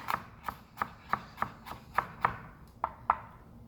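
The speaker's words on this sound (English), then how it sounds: "So I peeled all the garlic, and then we're just going to chop it up really nice." A knife chops peeled garlic into thin slices on a cutting board, about ten sharp, evenly spaced knocks close up with no talking.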